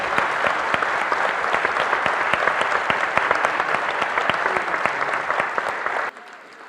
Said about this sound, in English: please join me in a huge round of applause for our panel